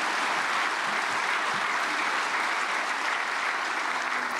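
Sustained audience applause at a prayer meeting welcoming a speaker, a dense, even wash of clapping from a large crowd that holds steady throughout.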